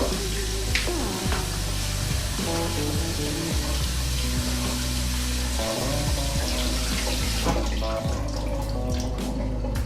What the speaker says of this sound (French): je vais les égoutter. Et je vais même les passer sous l'eau froide pour stopper la cuisson